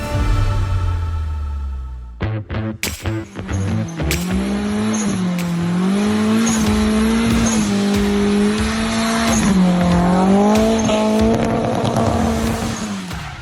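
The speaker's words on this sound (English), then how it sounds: "That car sound was courtesy of Aaron. That was his 1995 Nissan 240SX" A 1995 Nissan 240SX engine revs in sharp bursts, then holds a loud, high wailing drone with rising and falling pitch as tires squeal.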